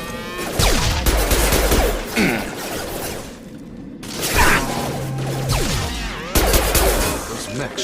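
Gunfire in a Mass Effect firefight against hostile mechs: loud, dense bursts of shots and crashes that pause briefly in the middle and resume, with voices shouting over the fighting.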